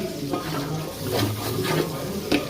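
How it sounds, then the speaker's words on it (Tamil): Biryani masala being stirred and sautéed in a pan for chicken biryani, with soft scraping strokes and a low sizzle recurring every half second or so, close and steady with a faint voice underneath. "பிரியாணி மசாலா ஆட் பண்ணிக்கிங்க ஆட் பண்ணிட்டு லைட்டாக வதங்கணும் கிண்டிக்கிட்டே இருங்க"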